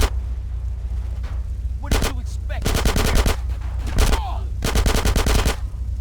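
Rapid bursts of gunfire in GTA San Andreas on PC crackle in loud, repeated volleys separated by short pauses, with a voice talking faintly between them.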